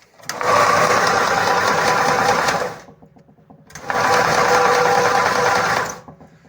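The electric motor of a homemade pumpkin-processing machine whirs up loudly, runs steadily for a couple of seconds, stops, then starts and runs again before winding down.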